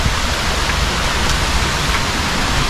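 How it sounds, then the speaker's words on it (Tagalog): Nonok Falls, a forest waterfall in Real, Quezon, pours as a loud, steady, close roar of rushing water that fills the whole moment with no break and no voices. "Ayun ang falls."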